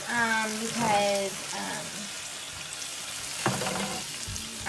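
Pork chops frying in a pan, a continuous close sizzle and spatter running beneath a brief voice and some stirring movement.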